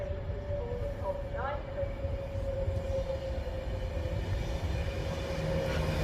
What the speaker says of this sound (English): The Avanti West Coast from London is now coming at platform 4.